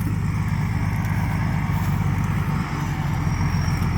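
A farm tractor engine runs steadily and loudly, its low rumbling drone continuous throughout with no talking.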